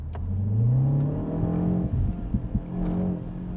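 Synthetic exhaust pops played through the cabin speakers of a 2025 Mini Cooper JCW, heard from inside as a steady engine drone with rising revs and a run of sharp crackling pops.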